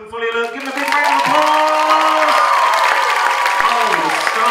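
Audience at a hypnotist's stage show at a community college bursts into loud, sustained applause and cheering for the volunteers, dense and continuous, with a voice heard briefly at the start.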